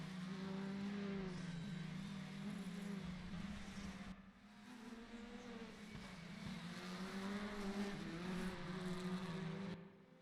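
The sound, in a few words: race cars, Audi and Alfa Romeo, in RaceRoom video game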